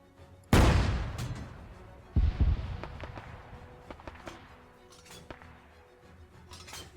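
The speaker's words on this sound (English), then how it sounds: "So I'm firing AP shells indiscriminately on their position." A tank in the Arma 3 video game fires armour-piercing shells in a Market Garden Iron Front scenario: two heavy, sharp cannon blasts about two seconds apart, followed by scattered distant crackles of gunfire and impacts.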